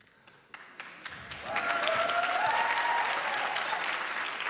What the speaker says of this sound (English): I've never been applauded for saying Cornwall.